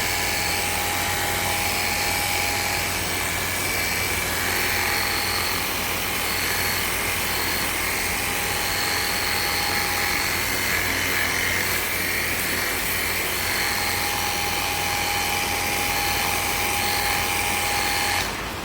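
A Realem 588 VF pressure washer motor runs steadily with a constant high whine and hum, unchanging and close by for the whole stretch.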